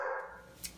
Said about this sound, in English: sorry, that's our puppy